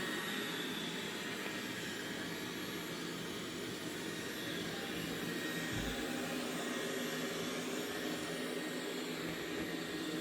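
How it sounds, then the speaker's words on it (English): A robot vacuum cleaner runs on a hard floor, giving a steady, faint whirring hum throughout, heard alone with no talking. "I think that's what it's doing right now, vacuuming the floor after it did the carpet"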